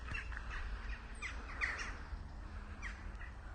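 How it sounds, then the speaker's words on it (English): Near a lake in gardens, a bird gives a few harsh squawking, crow-like calls at intervals against a quiet, breezy outdoor background with low rumble. "Ooh, bird sound."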